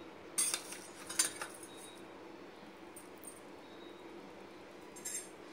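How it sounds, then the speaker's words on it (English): Spoonfuls of coriander seeds go into a pan while cooking sambar, giving a few light metallic clinks and rattles in brief separate bursts over a quiet background. "we are adding 2 spoons of coriander seeds"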